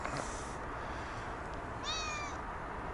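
A friendly British cat gives a single clear meow, close by, rising briefly over steady outdoor background noise with no talking.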